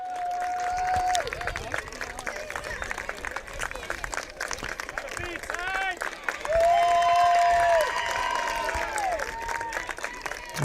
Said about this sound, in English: A very appreciative crowd here. Family, friends, and fans.